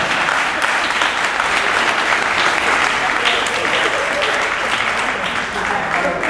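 Steady, loud applause from a crowd at an awards ceremony, dense clapping sustained for several seconds with voices mixed faintly underneath.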